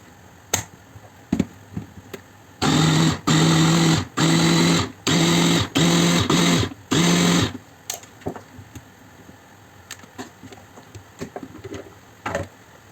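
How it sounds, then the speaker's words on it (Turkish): A blender purees fresh tomatoes in a home kitchen, running in about six short whirring bursts separated by brief pauses, with quiet clatter before and after. "Domateslerimi mikserden geçiriyorum."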